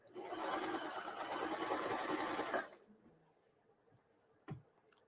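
A sewing machine stitches a fabric heater bag in a kids' sewing class, whirring steadily and close for under three seconds before stopping, followed by quiet room tone and a single soft click.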